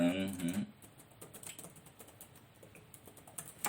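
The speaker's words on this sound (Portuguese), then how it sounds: "Vai no ao vivo mesmo, digitando aqui enquanto tá gravando." Computer keyboard typing at a desk, a steady run of light, close key clicks and taps following a brief stretch of talk at the start.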